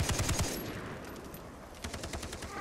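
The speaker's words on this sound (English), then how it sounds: "I'm getting shot at." Gunfire in the video game Far Cry 3: rapid bursts of automatic shots at the start and again near the end, quieter in between, moderately distant and without talk.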